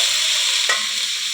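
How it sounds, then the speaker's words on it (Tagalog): String beans sizzle and crackle steadily in a hot pan as they are stirred into a home-style sauté with smoked fish, a close, continuous frying hiss. "lalagyan natin yung sitaw."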